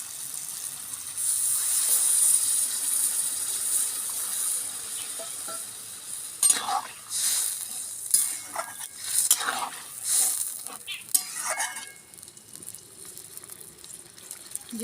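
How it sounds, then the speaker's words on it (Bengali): Papaya and potato curry sizzles steadily in a pan. Water is poured in, and a spoon scrapes and knocks against the metal several times while the frying noise fades. "এবারে জল দেব"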